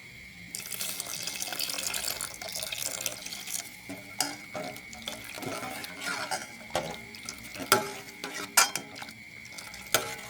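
Watery ground rice paste poured and stirred into a pot of three-mushroom curry, with continuous close liquid splashing and sloshing, scattered clinks of utensils against the pot, and a faint steady background hum.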